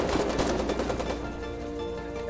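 Rapid machine-gun fire from partisans in the war game Foxhole, a dense burst of close shots that cuts off midway and leaves a ringing tail.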